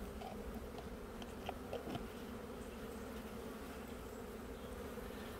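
Honeybees hum steadily in an open beehive during a varroa mite check, a dense and continuous low drone that stays even throughout, with a couple of faint clicks and knocks near the middle.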